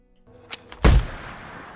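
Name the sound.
gunshot at a deer in the video game The Last of Us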